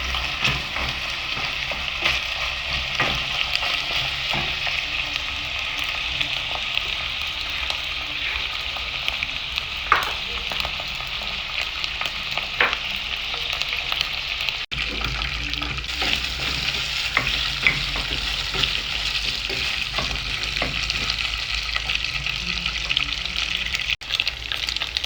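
Beef frying in a little oil over a high flame, a steady loud sizzle running the whole time with occasional sharp crackles and stirring clinks, and no voices.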